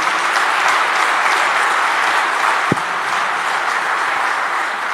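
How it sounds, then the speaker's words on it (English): A large audience gives a loud, sustained round of applause welcoming Srikanth Bolla, founder and CEO of Bolant Industries, onstage at an evening event. Dense clapping fills the room evenly from start to finish. "A loud round of applause for him"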